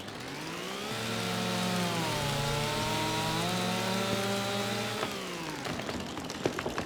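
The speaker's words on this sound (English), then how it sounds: "Grab our trusty chainsaw." A chainsaw in a video game revs into a long pole tree, a steady loud buzzing engine drone for several seconds before it cuts off, followed by faint crackling.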